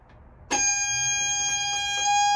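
A steady electronic beep from an engine control panel starts abruptly and holds as a continuous high tone over a low engine-room hum.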